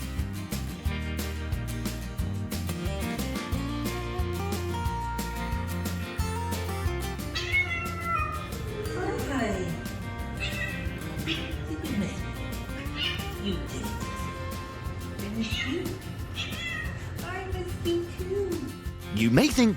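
Cats meow excitedly as their owners come home, with repeated rising and falling calls, some drawn out into wavering cries, close and fairly loud over steady background sound.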